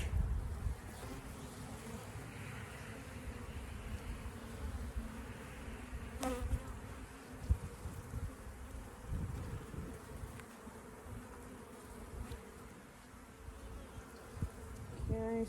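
Honey bees at an opened hive during a walk-away split check, a continuous close buzzing hum with scattered light knocks and rustles throughout.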